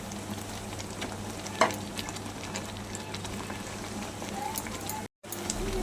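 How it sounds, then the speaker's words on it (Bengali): Omelette pieces are turned gently in a frying pan, giving a continuous soft sizzle and scraping at an even, moderate level, with one brief sharp tap. "এবার অমলেটগুলো দেওয়ার পর হালকা হাতে এইভাবে নেড়ে চেড়ে মিশিয়ে নিচ্ছি।"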